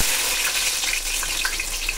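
Onions and green chillies frying in hot oil for chicken biryani, a steady close sizzle with faint stirring and no talk.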